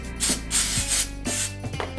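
A brush scrubs inside the receiver of a Remington 1187 shotgun in short, rough back-and-forth strokes, several quick bursts of scratchy rubbing close to the mic.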